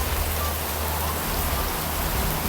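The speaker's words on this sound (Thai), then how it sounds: "ตอนนี้บ้านพี่ก็ ฝนแรงเลยนะ" Heavy rain pours down in a dense, steady hiss that fills the whole moment, close and loud, with a low rumble underneath and no voices.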